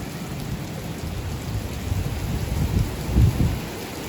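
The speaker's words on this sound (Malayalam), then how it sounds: "നല്ല മഴയാണല്ലോ" Heavy rain falls in Dubai as a steady, close downpour, with a low rumble swelling briefly near the end and no voices.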